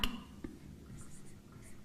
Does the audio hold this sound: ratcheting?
no